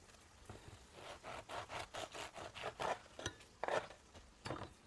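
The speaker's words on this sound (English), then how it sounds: "let's cut the end piece" A Japanese high-carbon stainless steel knife saws through the end piece of a French bread loaf, giving a series of about ten rhythmic, scratchy crust-cutting strokes, close and clear with no talking.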